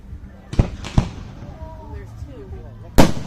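Fireworks at a show in Kansas burst with sharp, gunshot-like cracks: two quick booms, a pause with faint crackle and whistling, then another loud blast, heard from a moderate distance.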